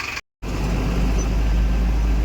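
Diesel engine of a tipper truck running, a loud, steady low rumble heard close up after a brief dropout at the start.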